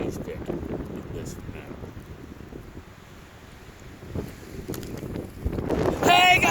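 Wind buffets the microphone outdoors in the wilderness, a rough, low rumble that rises and falls in gusts and grows louder toward the end.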